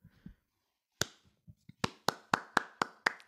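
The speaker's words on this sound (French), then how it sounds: "Là aussi, j'applaudis" Hands clapping at close range, starting with a few scattered soft taps and then settling into a run of sharp, evenly spaced claps, about one every quarter second, in a quiet room.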